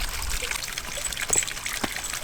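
Water trickles and splashes softly into a large boulder fountain filled by rainwater outdoors, a light, uneven dribbling with a few brighter drips, faint and continuous with no talking.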